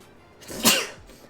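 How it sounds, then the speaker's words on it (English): A single sharp sneeze, a quick intake building into a loud burst, close by and on its own. "had to sneeze."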